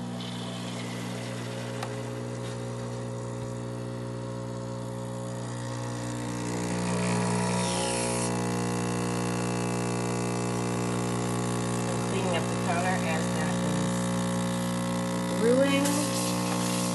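An espresso machine brewing a double shot: a steady pump hum with a low droning tone throughout, growing slightly louder partway in, with faint background noises.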